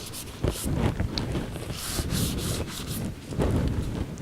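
A pencil draws and shades on paper in soft, close scratchy strokes, with repeated rubbing bursts that swell and fade in an uneven rhythm, alone without speech.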